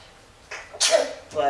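A young toddler sneezes once, sharp and close, in a home kitchen at breakfast time, with a brief small vocal sound before it and an adult voice nearby.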